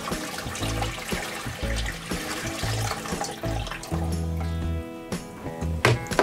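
Leftover water gurgles and trickles out of a motorhome pipe in uneven spurts while being drained for winter, with a low rumbling drone underneath throughout.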